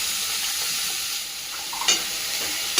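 Vegetables stir-frying with salt in a pan for egg fried rice give a steady close sizzle, with a couple of brief scraping clatters of a spoon partway through.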